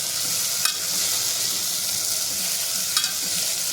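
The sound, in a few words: onion paste stirred and sizzling in oil in a cooker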